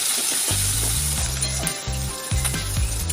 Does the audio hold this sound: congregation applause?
no